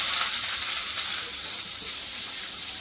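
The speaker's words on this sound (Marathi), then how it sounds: "म्हणजे आता कांद्याला चांगला भाजून घेऊया." Two medium chopped onions fry in hot oil with asafoetida, giving a steady, close, hissing sizzle that runs without pause and without talk.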